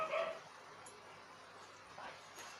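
A small dog gives a quick yip, then faint barking in the background.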